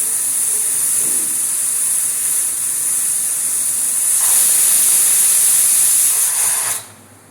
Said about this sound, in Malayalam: ഒരു വിസിൽ വന്നിട്ടുണ്ട്.